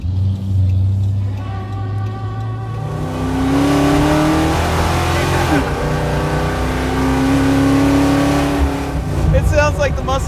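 A 1968 Dodge Charger rat rod's V8 engine revs up and down twice, with rising and falling tones over a rough, loud idle nearby, while people talk over it.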